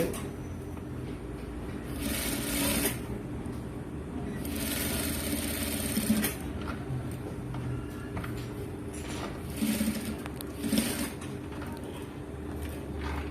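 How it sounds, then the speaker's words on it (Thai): A home sewing machine topstitching around the edge of a cloth face mask, its motor whirring in long bursts with a rattling, mechanical texture, close and steady, with brief pauses and faint background noise between runs. "จับเข้าหากัน เย็บคิ้วรอบ ๆ พร้อมปิดช่องที่เว้นไว้"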